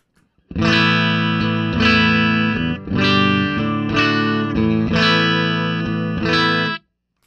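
Loud, close electric guitar chords with heavy distortion and chorus shimmer, played through a long cable with the Wampler Decibel+ buffer pedal on, strummed in a steady sequence and ending abruptly into silence.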